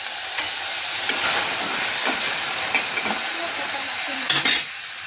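Tomatoes sizzle as they hit hot oil with cumin and ground spices, giving a continuous close hiss and crackle for the whole clip. There are a few stirring knocks, and the sound ends with a louder clatter.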